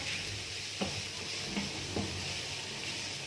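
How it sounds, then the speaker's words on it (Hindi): Vegetables for a samosa filling sauté over a medium flame in a pan, giving a steady close sizzle with a few soft clicks of a spoon stirring, and no talking. "मीडियम फ्लेम पर इसको हम सौटे करेंगे।"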